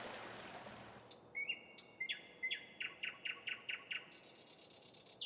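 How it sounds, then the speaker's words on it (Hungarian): A nightingale sings in a forest on the Tisza riverbank, a rhythmic series of bright, repeated whistled notes, fairly close and clear over a quiet, faintly rushing background. "Amikor a legnagyobb énekművész, a nagy fülemüle dalolni kezd a tiszaparti erdőben"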